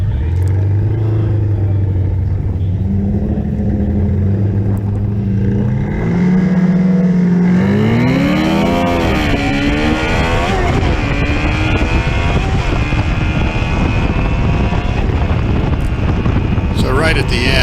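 A motorcycle roars down the strip in a drag race at Sonoma Raceway's Wednesday Night Drags. The engine screams up through rising and falling pitch sweeps as it shifts, loud and close, with heavy wind buffeting the microphone.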